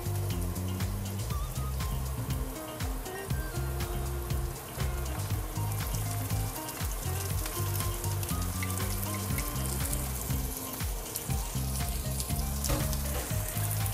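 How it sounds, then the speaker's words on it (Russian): Onion and paprika sizzle and crackle steadily while frying in a pan, a close, continuous hiss with irregular popping that runs alone without voices. "И обжариваем вместе с луком."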